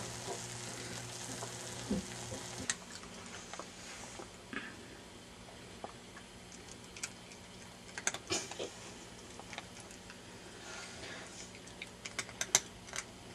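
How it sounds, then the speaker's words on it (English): Steady sizzling hiss of food frying in a pan, with scattered clicks and clatters of utensils on top, fairly close and continuous throughout. "You hear the sizzle?"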